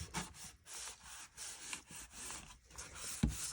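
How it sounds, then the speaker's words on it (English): A transfer is rubbed down onto a piece of thrifted decor with repeated scratchy, rasping strokes at an uneven rhythm, close and quiet, with no talking. "I just like to just keep rubbing on it, make sure it's down good"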